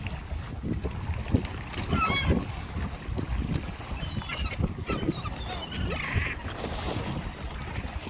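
Seabirds calling and squawking while being fed out at sea, with scattered honking cries over a constant rumble of a boat and water.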